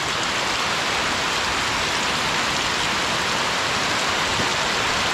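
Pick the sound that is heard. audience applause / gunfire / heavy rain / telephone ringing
heavy rain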